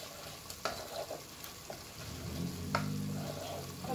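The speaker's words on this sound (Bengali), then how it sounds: "মশলাটা আমি কষাই" Masala spices frying and being stirred in a pan over medium heat for a fish dish, a soft steady sizzle with intermittent scraping stirs and clinks, fairly close.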